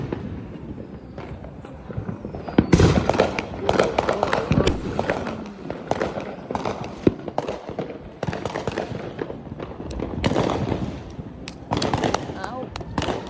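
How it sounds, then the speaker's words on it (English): Fourth of July fireworks and firecrackers go off in a rapid, irregular string of loud bangs and crackles over about thirteen seconds, with voices talking and shouting throughout. "I want to see 10 people put in 10 fireworks at the same time and see what's gonna happen."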